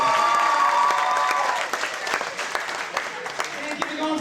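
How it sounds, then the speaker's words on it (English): Audience applause at a high school senior all-night event, loud clapping with some cheering at first, then thinning to scattered claps as voices carry over it. "another big round of applause for all the parents"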